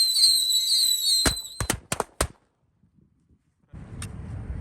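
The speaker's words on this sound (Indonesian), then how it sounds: "Selanjutnya kita nyalakan mercon tikusan tor 7 sekaligus." Seven small mouse firecrackers (mercon tikusan) lit together during Ramadan fizz with a high whistling hiss, then burst in a rapid cluster of sharp, loud cracks, followed by a brief silence and low rustling noise.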